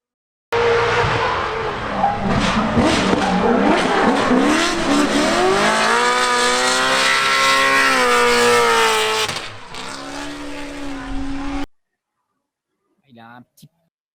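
A drift car in a competition run, loud and close, its engine revving and climbing in pitch through a long slide with tire noise, cutting off abruptly before a brief faint voice.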